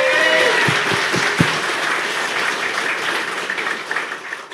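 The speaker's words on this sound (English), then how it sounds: "Big round of applause." A crowd breaks into loud, sustained applause and cheering that slowly tapers off, with a few whistles at the start.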